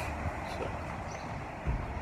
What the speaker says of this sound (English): I'm going to be on this subway for an hour and a half.